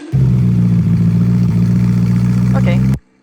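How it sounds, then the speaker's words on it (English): A car engine holds a strong, close, steady drone with a low throbbing tone for about three seconds before cutting off abruptly, with a brief faint voice-like blip near the end. "that has like that revving thing right here"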